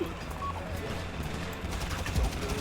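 Rapid gunfire in GTA V Online during a heist shootout, a steady dense rattle of shots filling the whole moment with a heavier burst near the end, with voices mixed in.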